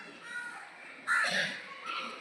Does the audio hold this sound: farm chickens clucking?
no